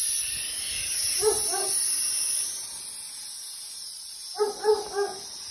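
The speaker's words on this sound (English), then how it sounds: "The neighbor dog was very talkative." A neighbor's dog barks in the back gardens, two short bursts of three or four barks each, somewhat distant, over a steady hiss of evening insects.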